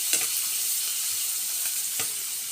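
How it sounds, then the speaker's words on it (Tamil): Green chilli and turmeric powder stirred in a hot pan for a banana stem kootu: a steady close sizzle with a couple of brief spoon scrapes, no talking. "போட்டு கிண்டி விடவும்."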